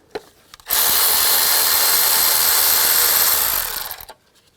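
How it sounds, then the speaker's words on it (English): A 12mm socket drives a bolt out of the engine bay of a 2003-08 Nissan Maxima. After a brief click it becomes a steady, loud, continuous whir that runs for about three seconds and then stops abruptly. It sounds powered, not hand-ratcheted. "Take a 12mm socket, take this bolt out"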